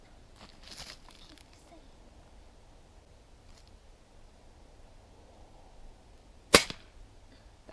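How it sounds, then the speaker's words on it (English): A single sharp pellet gun shot cracks out near the end while hunting rabbit outdoors, after a stretch of quiet rustling and soft background noise. "Just shoot the rabbit."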